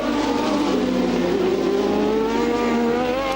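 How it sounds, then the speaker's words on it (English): Formula 1 cars at the 1988 Hungarian Grand Prix on the Hungaroring, including Williams-Judds and a Ferrari, roar loudly past with high, rising engine whines overlapping continuously. "Prost past the Lola, laps the Lola quite easily, and then the two Williams, Judds, Mansell and Patrese, and going with them is Gerhard Berger in the Ferrari"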